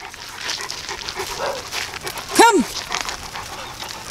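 A pet dog gives a single short, high whining yelp amid faint panting and shuffling, close and fairly quiet, as a person speaks briefly nearby.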